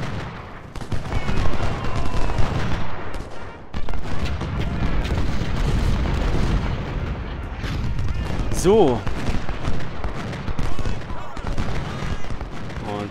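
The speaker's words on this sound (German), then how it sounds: "Das sind wirklich nur Kanonen." Cannon artillery fire in the Civil War strategy game Ultimate General: Civil War, heavy booms and volleys rolling continuously with low rumbling impacts, under spoken commentary.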